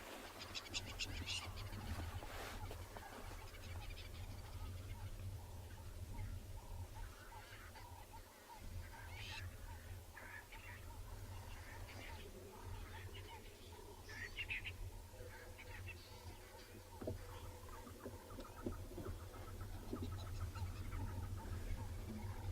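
Birds call from the bush at a private game reserve on a morning safari. Faint, scattered chirps and squawks sound from a distance over a low steady background, with occasional voices.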